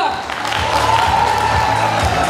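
Dense, steady audience applause fills a university hit-parade stage show, clapping close and continuous for a couple of seconds with a faint tone underneath.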